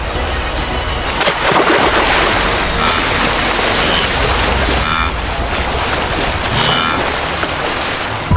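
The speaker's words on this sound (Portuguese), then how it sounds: "Gritos, respingos e o bater de centenas de patas ecoam no ar." Hundreds of wildebeest crossing the Mara River, a loud continuous roar of splashing water and churning hooves, dense and unbroken throughout with no talking.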